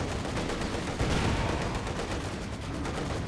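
A video game artillery barrage pounds without a break, with dense, overlapping blasts and rapid gunfire at a steady, loud level and no talking.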